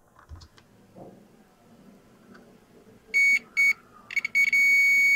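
A multimeter's continuity tester gives sharp electronic beeps while probing chip pins during motherboard repair: two short beeps, then a few quick chirps and a sustained tone, after faint clicks of the probes.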